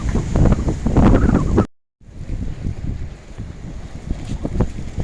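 Strong wind buffets the microphone on a fishing boat at sea in the rain, a loud, rough roar that cuts out briefly and then returns, with no voices.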